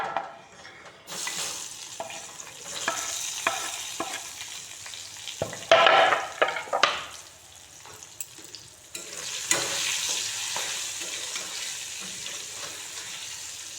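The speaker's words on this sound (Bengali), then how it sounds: "মশলা দিচ্ছি জিরা ধনিয়া মিষ্টি জিরা আদা বাটা তারপর কেটে রাখা কাঁচা টমেটোগুলো দিয়ে দিচ্ছি" Cumin, coriander, fennel, ginger paste and chopped raw green tomatoes frying in a pan for a cabbage dish, with a steady sizzle, stirring scrapes, and a louder burst of sizzling midway before it settles.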